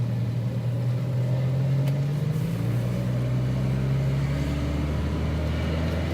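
A Volvo 240 with an AW70 automatic transmission, driven while gears are shifted manually: a steady low engine drone from inside the car with a slight change in pitch partway through, loud and continuous with no talking.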